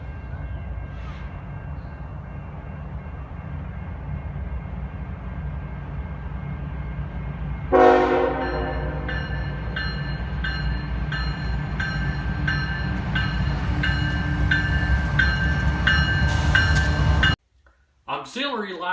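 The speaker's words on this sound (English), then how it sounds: "CSX train taking the siding in a meet" A CSX freight train sounds its horn while taking the siding for a meet, with a loud multi-tone blast rising over rumbling rail noise, then sustained horn chords that end abruptly.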